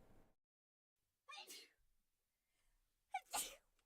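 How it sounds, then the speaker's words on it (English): Two separate sneezes, the first sharp and the second louder, with quiet pauses around them and no talking. "I gave 2 sneezes, 1 for each super chat"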